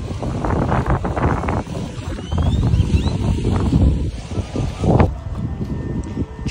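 Strong gusts of wind buffet the microphone outdoors in a park with blooming cactus, a loud rumbling roar that swells and dips in uneven bursts.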